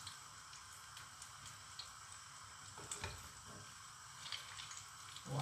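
Plantain akara frying in hot oil, a steady bright sizzle with small crackling pops throughout, close and fairly quiet with no talking.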